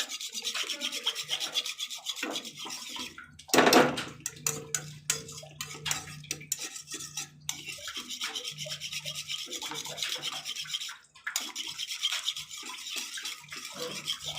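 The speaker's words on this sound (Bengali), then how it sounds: "এইভাবে জোরে জোরে ভালো করে নাড়তে হবে, নাহলে কিন্তু দানা দানা থাকবে" Sauce being stirred hard in a pan over a low flame, a steady scraping and rubbing of the spoon against the pan that continues throughout at close range, with brief louder knocks partway through and no talk.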